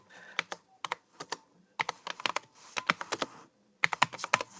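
Computer keyboard typing a terminal command, clusters of quick sharp keystrokes in uneven bursts with short pauses, close and with no talking.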